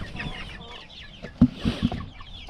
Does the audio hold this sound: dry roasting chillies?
no